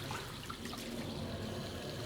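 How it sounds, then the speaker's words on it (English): Running tap water splashing in a sink as a character splashes cold water on their face in the video game Syberia: The World Before; a steady, soft, continuous wash of water with no talk. "Turning on the most likely frigid cold water and splashing it in our face."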